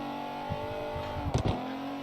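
A drift car in CarX Drift Racing Online comes back on the power, the engine note rising with a few sharp revving bursts over a steady drone.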